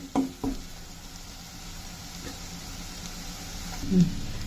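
Mint leaves fry in hot oil with turmeric added for a restaurant-style paneer masala curry, giving a low steady sizzle with a couple of sharp knocks near the start and a louder clatter toward the end.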